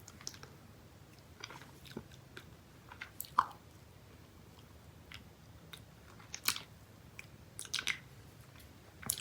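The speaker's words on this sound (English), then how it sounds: "I just want to taste the filling of this candy and see what that filling is." Soft close-up bites and moist chewing of a Cow Tales Minis strawberry smoothie candy, a chewy caramel log with a creamy filling, with scattered crunchy and squishy mouth sounds in a quiet room.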